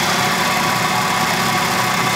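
Motor spinning the heavy-duty flywheel of a Bedini energy generator, a loud, steady mechanical drone and hum with constant vibration and no pauses.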